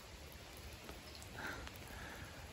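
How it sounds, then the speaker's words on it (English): Steady rain falls on the Appalachian Trail in Pennsylvania, a soft continuous hiss of drops with faint patters on nearby surfaces, fairly quiet and even throughout with no voices. "It is still very much raining right now."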